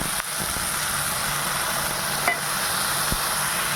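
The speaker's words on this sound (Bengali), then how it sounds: "আমি এবার এটা জল দিয়ে দিচ্ছি" Water hits fried spice masala in hot oil, setting off a loud, steady hissing sizzle that holds evenly after a brief dip at the start, with a couple of faint clicks and no talking.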